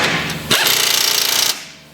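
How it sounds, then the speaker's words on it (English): An impact gun tightens a nut on a rear shock of a 2008 Honda Odyssey, giving a loud, buzzing, rapid hammering burst of about one second that stops abruptly. "tighten it by using an impact gun because they will break easy"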